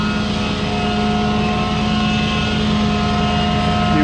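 A rebuilt scissor lift runs with a steady loud motor drone and hum, constant and close, with no break or change throughout.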